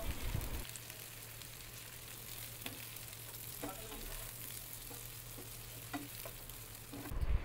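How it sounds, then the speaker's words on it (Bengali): Onion, capsicum and chilli fry in hot oil with garlic and ginger, a steady crackling sizzle running throughout with occasional scrapes and clicks of stirring, no voices over it. "পেঁয়াজ ক্যাপসিকাম যেগুলো কাটা ছিল ওগুলো দিয়ে একটু নুন ছড়িয়ে ভালো করে ভেজে নেব"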